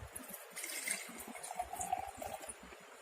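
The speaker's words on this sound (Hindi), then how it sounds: "और सी ग्लास का पानी भी बी में डालती हूँ" Water poured from one glass into another, a soft splashing trickle that runs unevenly for a few seconds, faint and close.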